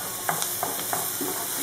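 Chopped onion and garlic sautéing in a pan, a steady close sizzle broken by a few soft stirring scrapes and taps.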